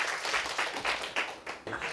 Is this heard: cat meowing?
no